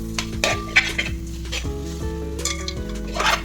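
Ground turmeric, coriander and chilli powder get stirred into frying beef biryani masala, a spoon clinking and scraping against the pot over a soft sizzle, with a sustained musical tone running underneath throughout.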